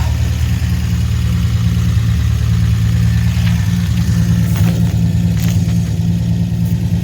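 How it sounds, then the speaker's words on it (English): A 1966 Dodge Dart GT barn find running with a muffler fitted and no tailpipe gives a loud, steady low engine rumble. It revs lightly throughout, close by, with no talking. "this is how the muffler sounds like. No tailpipe yet."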